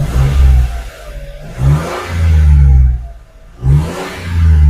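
A Mitsubishi Mirage hatchback with a sluggish engine and fault code P1590 revs three times, each rise to a loud strained roar dropping back to a rough idle. It is close and loud with no talking.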